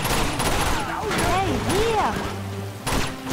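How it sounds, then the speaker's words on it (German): Gunfire in the video game Uncharted 2 rattles in rapid bursts with thuds and ricochet-like whistles, followed by a sharp final blast, with a player talking over the action. "Ich schieße einfach."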